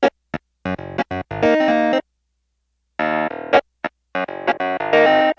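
A Nord Piano 6 played through its small amp alt tone, with short staccato chords and sustained notes in bursts, separated by a silent gap of about a second.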